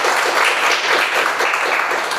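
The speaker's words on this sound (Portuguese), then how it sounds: "Pode aplaudir a palavra de Deus." A church congregation applauding together at a prayer group gathering, a dense, steady wash of clapping from many hands filling the room without pause.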